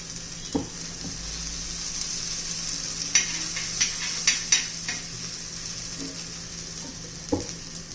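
Small egg tikki fry in a pan over a medium gas flame with a steady, soft sizzle, broken now and then by light clinks and scrapes of a utensil against the pan, with no voices.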